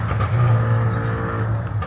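A Ford Mustang engine revs loudly nearby in a brief, deep, throaty roar, with a voice speaking over it.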